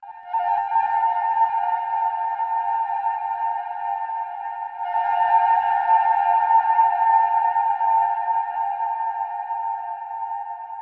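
An Arturia synthesizer holds a steady, sonar-like tone drenched in reverb, fading briefly before a second swell sustains and slowly decays, with no voices.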